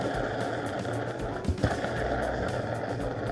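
A wheel spins and rolls with a steady, fairly loud rumbling texture across the whole span, broken by a brief louder knock and wobble around the middle, with no talk over it.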